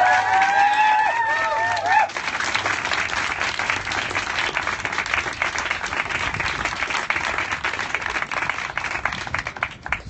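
Sustained audience applause fills a ceremony hall where diplomas are being returned, dense steady clapping running the whole stretch, opening under a few loud whoops and cheers before settling into even, continuous hand-clapping.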